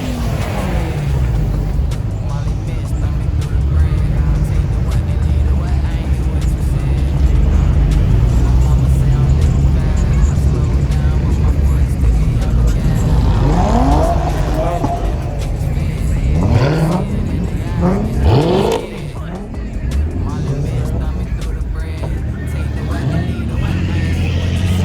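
At a street car meet, a wide-body Dodge Hellcat's Hemi V8 holds a loud, deep rumble for the whole stretch. Several sharp revs and rising engine sweeps stand out near the middle, with crowd voices underneath.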